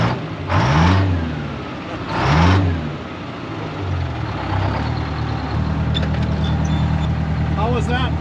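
A farm truck's engine revs hard and accelerates up close, with a steady low drone building underneath. Two loud bursts of voices rise over the engine, and a higher whine enters toward the end.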